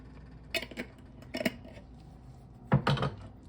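A spoon scrapes and clinks against a pot while keema is stirred with turmeric and dry coriander, three short bursts of metallic knocking and scraping with quiet gaps between, close and alone.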